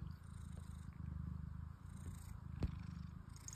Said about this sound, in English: Can you hear us purring?